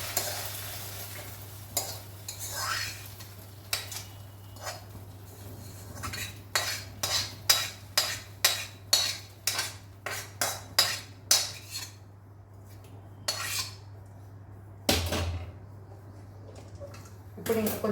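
Fried fenugreek leaves are scraped from a pan onto a plate with a metal spoon, giving a fast run of sharp clinks and scrapes over a low hum. Only a faint trace of sizzle remains beneath.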